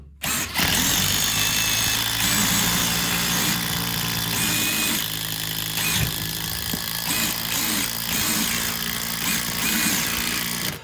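A loud power tool whirs and rattles almost continuously, with an impact driver's chattering hammering as it drives fasteners, up close.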